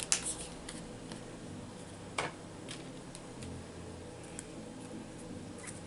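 Scissors snipping through a Starbucks paper cup to make a DIY Christmas ornament: a few sharp, close snips and ticks spaced irregularly over a faint steady room hiss.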